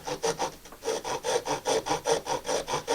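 Wooden spindle whorl for a Navajo spindle being smoothed and flattened by hand, a close, regular back-and-forth rasping rub repeating about four times per second without pause.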